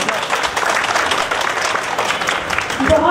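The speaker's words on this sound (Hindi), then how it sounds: "जिसके साथ एक जोरदार तालियां" Loud, sustained applause from a crowd at a foundation-stone ceremony for Bhagalpur Smart Silk City carries on for the whole stretch, with faint voices underneath.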